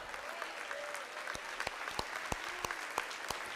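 A church congregation applauds in a steady wash of clapping, with sharper claps landing in a regular beat, fairly close and moderately loud, and a faint voice rising through it.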